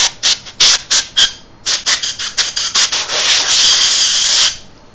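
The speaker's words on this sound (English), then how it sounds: "I'm also going to blow this tool off with nitrogen again" Bursts of compressed nitrogen gas blowing off a tool while cleaning an SEM, a series of short loud hissing puffs followed by a longer sustained blast, with no talking.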